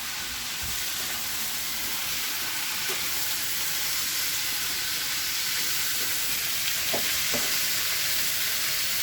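Onions and vegetables for Philly cheesesteak calzones sizzle loudly in a crowded pan, a dense, continuous hiss with a few faint scrapes of stirring and no voices.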